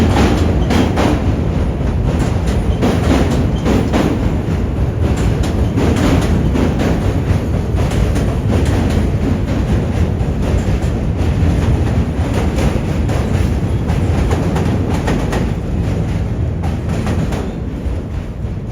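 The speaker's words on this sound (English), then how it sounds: "The Q train runs along here." A New York City Q subway train passing in Brooklyn, a loud continuous rumble and clatter of rail wheels lasting the whole stretch, close by and steady with no voices.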